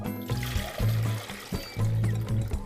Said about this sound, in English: I'm gonna go ahead and fill up my measuring cup with water